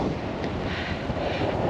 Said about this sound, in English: it is a little bit windy, so you might struggle to hear me